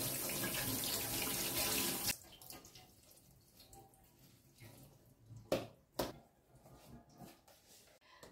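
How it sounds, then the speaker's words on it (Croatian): Fresh mint leaves rinsed briefly under a running kitchen tap: a steady, fairly loud stream of water splashing into a sink, stopping after about two seconds and followed by softer handling, drips and a few sharp clatters. "Metvicu ću zatim kratko oprati, pod tekućom vodom, vrlo kratko."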